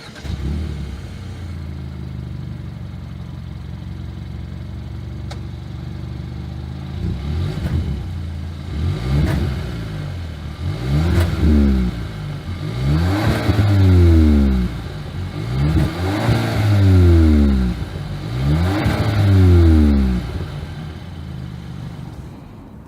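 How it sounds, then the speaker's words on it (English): A 2021 Kia K5 exhaust, loud and close, idling steadily before a series of about six sharp revs that rise and fall in a regular rhythm, each swell climbing quickly and dropping back to idle. "As always, here is that exhaust clip."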